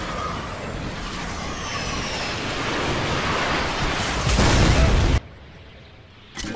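A guided missile blast in Fortnite Battle Royale, a loud broadband roar that swells near the end, cuts out sharply, then drops to a quieter rumble, with no talk over it.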